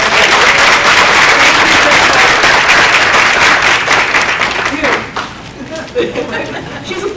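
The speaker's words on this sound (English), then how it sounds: "She's applauding herself." Audience applause at a Color of Justice event, loud dense clapping from a large room that carries for about five seconds and then tapers off, leaving scattered claps and murmuring chatter.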